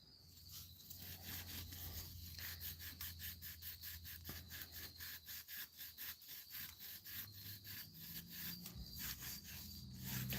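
A Scotch-Brite pad with WD-40 scrubs gasket remnants off a cast iron cylinder head of a 96-05 Chevy Astro or GMC Safari, giving a close, steady rhythmic rasping of rapid back-and-forth strokes heard alone.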